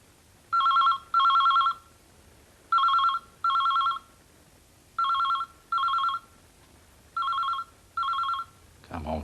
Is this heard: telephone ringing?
yes